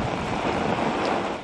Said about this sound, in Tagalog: Ramdam yan sa lakas ng mga alon at hangin.